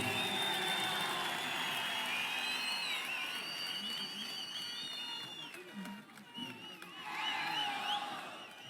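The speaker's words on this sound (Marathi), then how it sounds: "अमित साहेबांचा टाळ्या वाजून सगळ्यांनी स्वागत करा" Audience applause welcoming Amit Saheb at a Marathi political gathering, a steady crowd wash of clapping and cheering that dips briefly and swells again, with voices mixed in.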